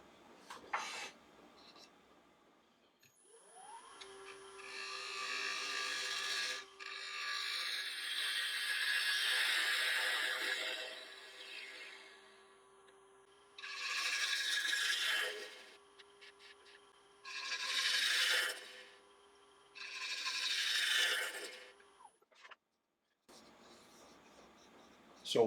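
Wood lathe taking turning cuts on a firewood blank, a steady scraping, rasping cut that swells for several seconds, then three shorter separate passes of tool on wood, with no talking.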